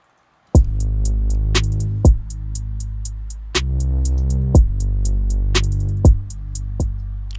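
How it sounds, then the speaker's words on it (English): Trap beat drums play on their own: deep booming kicks with long low tails land every second or so under a steady rapid ticking hi-hat pattern, loud and close. "let's go ahead and listen to the drums by themselves right now"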